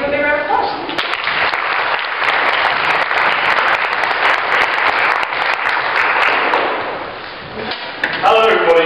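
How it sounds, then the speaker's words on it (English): At a LogiCON 2013 talk on the mathematics of knots, an audience gives a sustained, loud round of applause welcoming the speaker, fading briefly before a voice begins at the end. "So let's give him a big round of applause."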